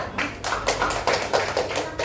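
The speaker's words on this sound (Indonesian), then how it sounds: "Oke, tepuk tangan dulu untuk Surya." Elementary third-grade students in a classroom give a short round of clapping for a classmate's group, the claps uneven and fairly close, a few distinct bursts with some small voices mixed in.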